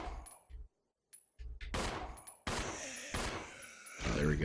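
A couple of gunshots from a weapon in the Resident Evil 0 video game, sharp loud blasts separated by brief silences, followed by clanking game sounds.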